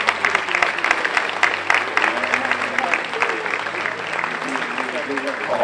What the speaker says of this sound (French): deuxième ambassadrice, Clémence, sous vos applaudissements.